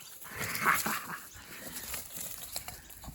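A dog pants and whimpers softly in short bursts close by, with a brief higher whine near the start, over a steady background hiss.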